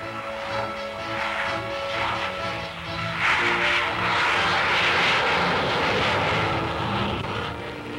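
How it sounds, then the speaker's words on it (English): A 1957 F-100F Super Sabre jet roars past in a continuous, loud, broadband rush that swells midway and holds steady, like archival newsreel sound with no voices. "Major Risner, in piloting the new Super Sabre from the West Coast factory to McGuire Air Force Base, set an unofficial cross-country record"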